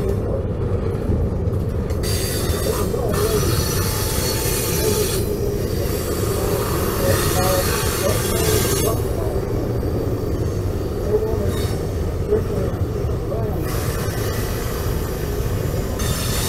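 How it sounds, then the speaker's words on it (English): Freight train 3165 rolls past northbound, a steady, loud rumble of wheels and railcars with occasional squeal, continuous throughout with no talk. "It's always a neat thing to see when you have a north and a southbound train going past."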